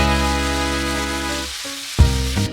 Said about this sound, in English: I browned the meat well in a couple tablespoons of that classic lard.